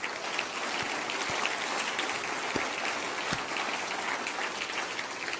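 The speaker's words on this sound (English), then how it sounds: "Let's have a round of applause for everyone who's in this room today" Steady, rain-like applause fills a room of attendees at the FoodBytes! San Francisco 2017 food startup event, continuous and fairly distant, with a few sharper individual claps standing out.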